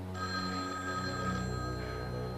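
A telephone bell rings steadily in a tense indoor scene, a continuous bright electric ring lasting the whole stretch with no voices over it.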